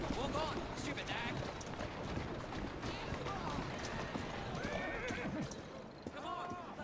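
Horse hooves clip-clop steadily in the video game Assassin's Creed Syndicate, alongside neighs and whinnies, with someone talking over the busy scene throughout.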